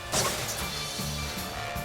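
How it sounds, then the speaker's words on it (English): A loud crunching smash of colliding metal as a car backs into another car, followed by a couple of duller impacts and scraping noise. "the boozer backs into a car"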